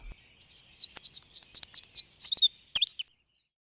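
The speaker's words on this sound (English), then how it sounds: "In the UK, the wren singing in the spring is one of the commonest bird songs you tend to hear," A wren sings in spring in the UK, a rapid, high-pitched run of bright trilling notes delivered close and clear for about two and a half seconds against near silence.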